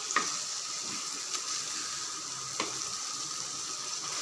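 Fish fries in a pan with a constant soft sizzle, broken by a few faint clicks and taps of utensils, heard close up and steady throughout with no speech.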